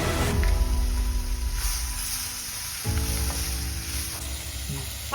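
Onion curry with tomato sizzling in a pan over a medium flame, a steady frying hiss with bubbling, close and continuous, with a brief stir near the end.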